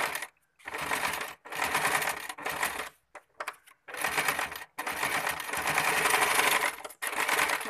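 A sewing machine stitches the end hem of a lungi in loud, close bursts of rapid mechanical whirring, separated by short pauses, with one long continuous run in the middle.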